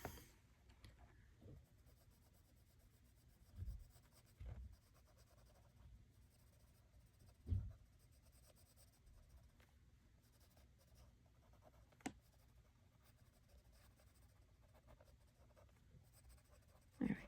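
Prismacolor colored pencil scratching steadily across paper, a soft continuous scribbling texture with a few louder strokes and taps, close and quiet, with no voices.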